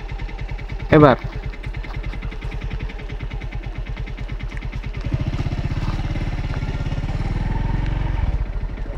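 A motorcycle idles with a rapid steady putter during a riding lesson, then the engine note thickens and rises as it pulls away; a person speaks briefly over it near the start.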